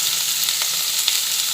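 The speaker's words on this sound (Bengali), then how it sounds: "উচ্ছে ভাজা হচ্ছে, সেই সময় এর মধ্যে কিছুটা পরিমাণে হলুদ দিয়ে দিলাম।" Bitter gourd slices fry in hot oil in a wok with turmeric, giving a steady, close, loud sizzle with no voices.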